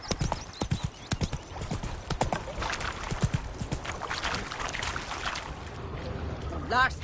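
Roach, the horse in The Witcher 3: Wild Hunt, gallops in quick, steady, close hoofbeats over a busy game background, with a short whinny-like call near the end.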